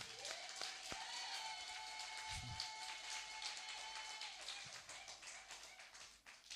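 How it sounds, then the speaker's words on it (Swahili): A church congregation claps together, a dense, steady patter of many hands that fills the room and carries on evenly before easing off near the end. "Piga makofi sasa hapo ulipo."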